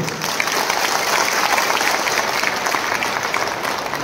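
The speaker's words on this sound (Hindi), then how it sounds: "तो जोर से ताली दो" Loud, even applause from a large community gathering, dense clapping sustained throughout with a faint murmur of the crowd beneath.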